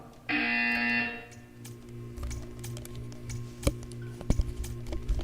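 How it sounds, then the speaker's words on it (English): A loud electronic buzzer from the video game Portal 2 sounds for about a second, followed by quieter clicking and tapping noises. "When you hear the buzzer, stare at the art."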